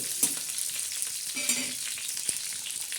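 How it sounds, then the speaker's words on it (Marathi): Curry leaves sizzling in hot oil in a kadhai for a spicy sev bhaji, giving a bright crackling hiss with a few sharp pops and a brief stir, close and fairly quiet. "कढीपत्ता बघा कसं तर तर तर तर होतोय"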